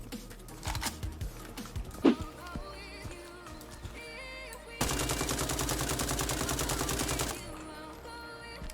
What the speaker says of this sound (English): Mag dumping in this game is sometimes surprisingly effective